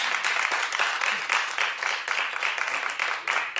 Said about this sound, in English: No, clap like you mean it.